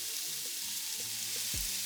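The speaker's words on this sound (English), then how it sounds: "And I drop in the red peppers. Give it a nice little mix." Red peppers sizzle in a hot pan, a soft continuous hiss with a few light taps and a brief scraping stir near the end.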